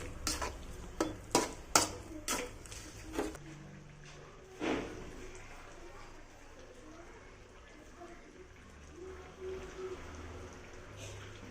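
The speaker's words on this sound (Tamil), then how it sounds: "உப்பு போட்டு கிண்டி விடணும் ஃப்ரெண்ட்ஸ்" Kudal (goat intestine) gravy being stirred with salt in a pan, several sharp scraping and clinking strokes in the first few seconds, then a soft steady simmer with quieter occasional stirs; close and moderately loud.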